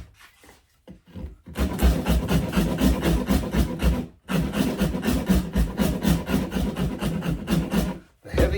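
A rasp files wood on a cigar box guitar build in long, loud, close back-and-forth strokes with a gritty scraping texture, broken by two short pauses.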